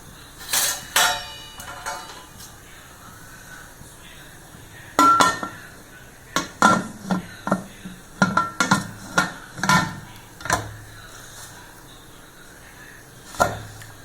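A metal cake tin clanks into a heavy cooker and its lid closes, giving sharp clinks and knocks in scattered bursts, with a cluster of rapid metallic taps in the middle and a final clunk.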